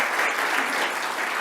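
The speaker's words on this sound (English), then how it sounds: "A big applause to the panel." A conference audience breaks into dense, sustained applause for a panel at a World Development Report launch event, a steady wash of many hands clapping with no pauses.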